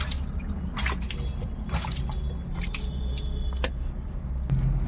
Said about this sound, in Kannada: ಫಸ್ಟು ಒಂದು ಜಗ್ಗು ನಾನೇ ನೀರು ಹಾಕ್ಕೊತಾ ಇದ್ದೀನಿ